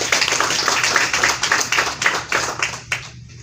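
Audience clapping at a UN SDG Summit side event after a speech, a small group's distinct, fairly close claps in an uneven rhythm that thin out and stop abruptly after about three seconds.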